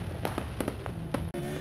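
Fireworks set off for New Year celebrations on the streets of Mimika: a rapid string of sharp cracks and bangs at irregular intervals, fairly near, above a constant low background hum.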